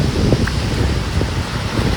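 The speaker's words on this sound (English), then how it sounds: "Hopefully you can even hear this because it's so bloody windy" Strong wind buffets the microphone on a road trip in Tasmania, producing loud, low rumbling gusts that roar continuously.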